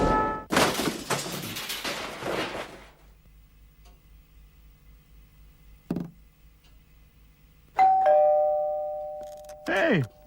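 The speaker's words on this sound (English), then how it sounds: "Hey, that'll be the doorbell." A two-tone doorbell chime rings out clearly near the end, after a burst of voices and commotion at the start gives way to a long, quiet stretch broken by a single knock-like thud.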